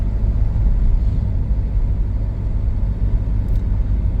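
A Hyundai car on the road at night, heard as a steady, loud low rumble of engine and tyres with no voices.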